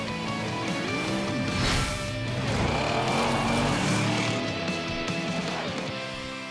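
Cartoon monster truck engine roars steadily at speed, loud and continuous, with rising and falling revving whines, some tire squeal and faint background music throughout.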